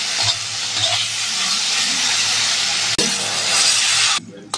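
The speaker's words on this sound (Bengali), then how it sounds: "তো ভালো করে একসাথে নেড়ে নেব।" Tomato chutney with dates, cashews and raisins cooking in a pan, a steady close hiss and sizzle with light stirring scrapes, cut by a sharp click near the end before fading low.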